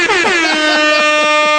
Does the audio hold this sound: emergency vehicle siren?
no